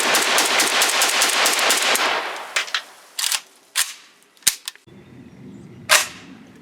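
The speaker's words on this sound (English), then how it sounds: "we took it out and ran some rounds through it" A used Izhmash Saiga rifle fires a rapid string of sharp gunshots, followed by several separate single shots spaced out with short pauses, loud and close with no talking.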